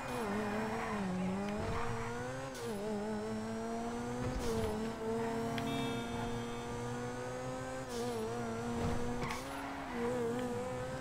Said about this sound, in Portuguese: Tá muito rápido o carro, muito rápido.